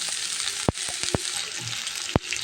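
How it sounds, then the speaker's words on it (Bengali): Potato and eggplant fry in hot oil with onion and garlic, a loud, close, continuous sizzle broken by several sharp clacks of a spoon stirring against the pan. "এখন আমি এটা ভেজে নেব কিছুক্ষণ ভেজে নেব"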